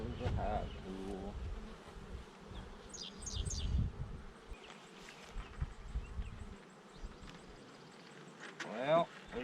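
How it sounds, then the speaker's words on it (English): Bees buzz inside a hive box, a close humming drone under intermittent rustling and clunks of handling, with a person speaking at moments. "Well, we got bees in here"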